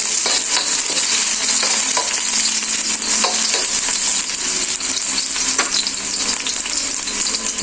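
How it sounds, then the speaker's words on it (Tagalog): Onions, garlic and mixed vegetables such as carrots sauté in a hot pan, giving a steady, close sizzle that runs the whole time with occasional stirring scrapes and clinks. "tigisa lang natin itong mga gulay"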